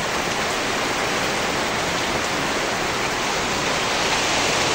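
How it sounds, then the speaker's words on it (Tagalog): Heavy rain pours down in a dense, constant hiss, heard from a leaking kitchen, loud and unbroken throughout with no other sounds standing out. "Ang lakas ng ulan."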